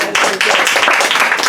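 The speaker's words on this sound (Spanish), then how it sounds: "Dale un aplauso al Señor." A church congregation claps together in quick, brisk rhythm, close and loud, with a voice speaking over the clapping for a short moment.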